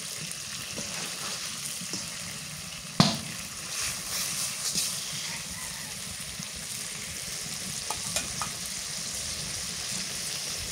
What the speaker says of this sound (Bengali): মাছটা এ পিঠ থেকে ও পিঠ করে দিই।